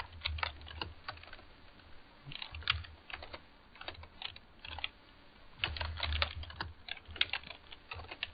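Typing on a computer keyboard to enter a command at a desktop command prompt, bursts of close, rapid key clicks with short pauses and no speech.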